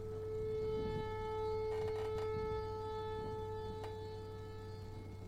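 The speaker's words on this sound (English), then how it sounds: "it's likely just a malfunctioning tornado siren" A malfunctioning tornado siren gives off a steady droning wail with sustained tonal hum and faint background noise, heard at a distance throughout with no voices.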